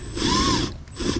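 A wrench turning a Harbor Freight puller to pull apart a Hoshizaki ice machine water pump, giving a loud steady whirring, ratcheting drive that runs for most of a second, pauses briefly, then starts again.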